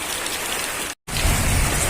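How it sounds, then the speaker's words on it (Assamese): Steady rain with wind on a gloomy day at a rural home, a dense continuous hiss that cuts out for a split second near the middle and then resumes slightly louder and fuller. "এয়া চাওকচোন কেনেকুৱা একদম বতাহ বৰষুণ আহিছে, অলপতো বতাহো আহিছে।"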